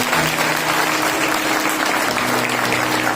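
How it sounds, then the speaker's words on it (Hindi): Steady, dense clapping from a large church congregation at a Sunday service fills the whole stretch, loud and sustained without a break. "जोर से ताली बजाकर परमेश्वर को धन्यवाद देंगे।"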